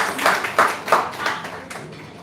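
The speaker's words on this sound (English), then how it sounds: "Can we clap for it?" Audience clapping at a signing ceremony in India: a short burst of rhythmic, fairly close hand claps, five or six distinct beats that soften and trail away, with faint room noise underneath.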